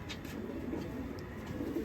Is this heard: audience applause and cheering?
no